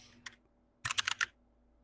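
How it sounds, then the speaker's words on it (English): A computer keyboard clicks in a quick cluster of several keystrokes after a single earlier tap, faint and close in an otherwise quiet room. "I hear your keyboard."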